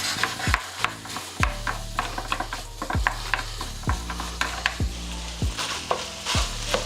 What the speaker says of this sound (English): Now we're getting ready to start browning our, our beef.